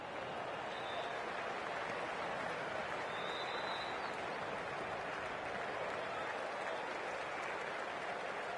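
Dense crowd applause and cheering roar continuously after a six in the Cricket24 video game during a CSK vs KKR IPL match, loud and steady throughout.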